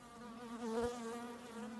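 Bees buzzing at an opened horizontal hive, a faint steady drone with a wavering hum that swells briefly midway.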